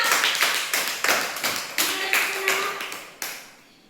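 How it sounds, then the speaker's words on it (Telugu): Students in a primary abacus class clap together in a quick, even burst of about seven sharp claps close by, fading out at the end. "మరి క్లాప్స్ కాదా?"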